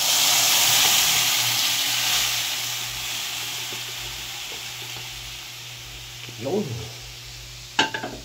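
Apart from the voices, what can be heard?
sautéing onion and garlic, adding mung beans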